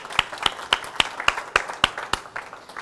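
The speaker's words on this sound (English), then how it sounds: "Big round of applause for Dave Kinney." An audience at a classic car valuation panel claps in a steady, sparse run of about a dozen crisp, moderately close claps with no talking over them.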